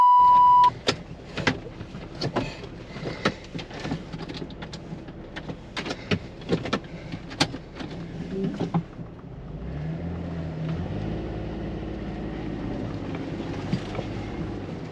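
A jeep idles slowly through deep water on a trail. It starts with scattered splashes and clunks, then settles into a steady low engine rumble with water washing around it, close and moderate.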